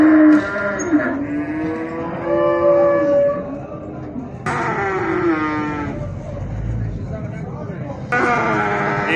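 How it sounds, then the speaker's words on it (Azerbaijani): Cattle moo at the Mashtaga livestock market in Azerbaijan, with several loud, close, drawn-out calls over steady crowd noise. "Maçdağa mal bazarı."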